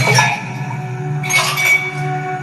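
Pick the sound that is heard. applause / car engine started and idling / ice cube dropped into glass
ice cube dropped into glass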